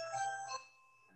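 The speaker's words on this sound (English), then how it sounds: "That's my doorbell." A two-tone doorbell chimes once at home, bright ringing tones sounding clearly for about half a second before decaying into quiet.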